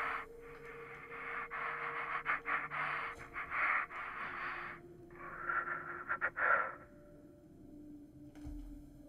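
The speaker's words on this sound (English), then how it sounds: "Ragged breathing." Ragged, heavy breathing in The Outer Worlds, a character's harsh rasping breaths coming in uneven bursts, close and fairly loud, then dropping off near the end.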